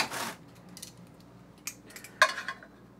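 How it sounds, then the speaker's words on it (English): A piece breaks off a hot bamboo steamer basket as it is lifted out of a pan in a kitchen: a short rough scrape, then a few sharp, light clattering knocks close by, with no talking. "Piece of the bamboo basket fell off."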